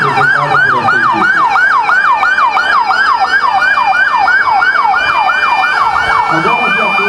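Fire brigade vehicles of a firefighter battalion in a commemorative parade in Presidente Prudente, Brazil, blare a loud, fast wailing siren that cycles rapidly and continuously, close by.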